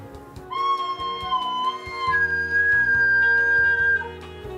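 A breathy recorder note wavers, then jumps to a higher, piercing squeaky pitch from improperly covered holes, holding for a couple of seconds over soft background music.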